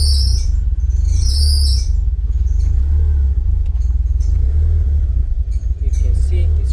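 A cold 2g Mitsubishi Eclipse GSX engine cranks and catches with brief high squeals at first, then settles into a loud, steady low rumble that runs unevenly and struggles to idle.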